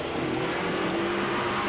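Surtees Formula One car with a Ford DFV V8 pulling out onto a warm-up lap at Oulton Park, 1971: a steady, loud engine drone held throughout, with no voices.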